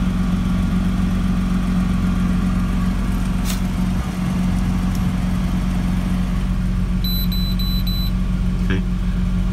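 A car engine idling steadily with the engine on during an OBD2 scanner check-engine-light test, a loud constant low hum and vibration throughout with a few faint clicks and beeps, no talk.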